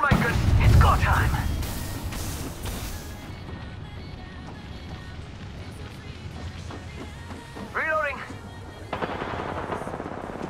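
Rapid automatic gunfire in the shooter video game Apex Legends, a loud burst of shots early on, then scattered game effects and a voice line further back.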